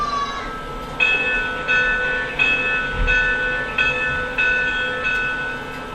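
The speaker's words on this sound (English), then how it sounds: "That, of course, was the continuous ringing bell." A Lionel Erie 2-10-4 Texas model locomotive bell rings continuously in a steady clanging rhythm, bright metallic strikes about every second over a low background hum.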